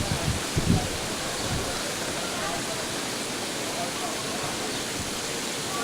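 Steady broadband rush of a waterfall on Kauai runs unbroken from start to finish, with a few brief low bumps near the beginning.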